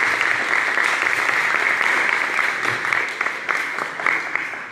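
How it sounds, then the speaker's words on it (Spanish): An auditorium audience gives sustained, dense applause after a pharmacology lecture on addictive substances. The clapping is steady and full, then thins slightly toward the end. "creo que merece un aplauso del auditorio"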